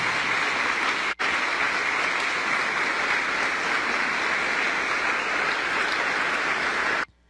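A strong, steady round of applause in a television news studio, dense clapping filling the whole stretch after a brief cut near the start, then ending abruptly.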